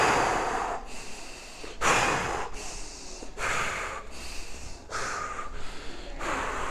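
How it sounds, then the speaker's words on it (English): Heavy rhythmic breathing during a dance balance exercise with bent knees and spine turns, about seven loud, forceful breaths in a steady cycle, close and alone with no talk. "Keep that same breathing the whole time."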